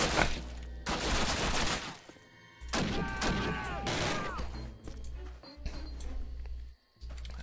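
Rapid gunfire in a Call of Duty game, bursts of sharp cracks with bullets striking car windshields that do not shatter, loud and close with brief pauses between volleys and a few words of talk.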